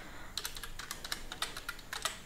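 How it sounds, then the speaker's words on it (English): Keys on a computer keyboard click in quick, uneven bursts of typing, close up and fairly quiet, after a brief silent start. "I'm just typing"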